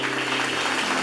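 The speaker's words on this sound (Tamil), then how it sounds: "கைத்தட்டு வருது அவருக்கு." A congregation at a Tamil Sunday church service claps for the preacher, a dense, steady patter of many hands that holds alone and evenly through the whole moment.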